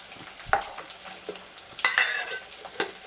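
Onions frying in a pan for dried anchovy thokku, a quiet sizzle broken by a few sharp scrapes and clatters of stirring, close and without voices.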